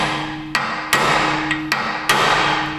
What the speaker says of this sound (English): We'll come to this side to give it the dimple with our dimple driver.